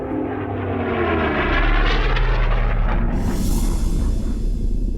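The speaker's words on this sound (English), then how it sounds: "race plane powerhouses that can cut through the course at 500 miles an hour" A race plane engine roars past close and loud, a rough propeller drone whose pitch sweeps down as it goes by, filling the whole stretch with no talk over it.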